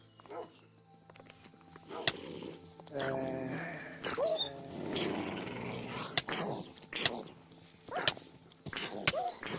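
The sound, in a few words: dogs growling and barking in a video game, Minecraft mods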